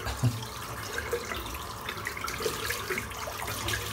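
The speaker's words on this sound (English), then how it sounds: "Just rinse the brush out." A 30mm boar-bristle shaving brush is rinsed under a running tap, giving a steady, close wash of flowing water with small splashes and no talking.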